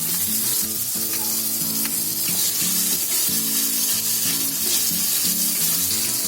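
Ginger garlic paste sizzles loudly with tomato and capsicum in a pan, making a dense, continuous frying crackle over a steady hum. No one speaks.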